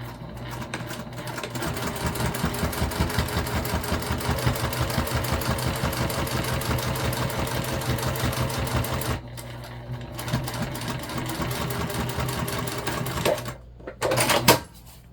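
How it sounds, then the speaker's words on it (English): A sewing machine top stitches a mini backpack in long, rapid, rhythmic runs, stopping twice briefly before a final short burst, loud and close without talk. "we'll come back and we'll do a 1/4 inch top stitch."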